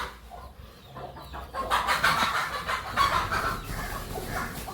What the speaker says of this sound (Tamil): வீட்டில் கோழி சண்டை விட்டுட்டு இருக்குது